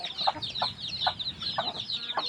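Native chickens cluck while being fed: a run of about five short, close clucks comes at a fairly regular pace over a soft, busy background.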